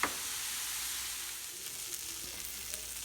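Rainbow carrots sizzling in a copper pan, a dense, loud, continuous hiss of frying that holds steady throughout, with a few faint pops and ticks over it.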